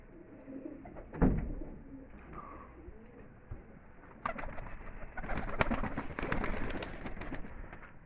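Baku pigeons coo repeatedly at close range by their nest, soft throaty calls rising and falling, with some rustling and fluttering noises building in the second half.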